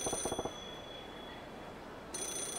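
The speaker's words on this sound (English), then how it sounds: "Why is a payphone ringing?" A payphone rings in the video game Yakuza 0, with two short bursts of an old-style electronic telephone ring separated by a quiet gap, clear and fairly close over faint background hum.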